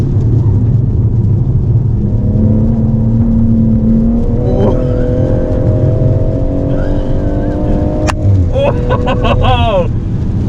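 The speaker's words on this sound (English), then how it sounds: "So we've just been for a hot lap in the Motech edition, Tony Lewis's car" A BMW M140i Motech edition with upgraded suspension lapping Llandow Circuit, its engine droning loud and steady as it accelerates, a rising whine near the end with tyre noise, while people inside talk over it.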